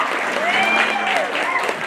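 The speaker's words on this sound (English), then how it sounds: "give all four of them a big round of applause" Audience applause at a county fair hog showmanship class, a short, dense burst of crowd clapping in a large space with an announcer's voice carrying over it.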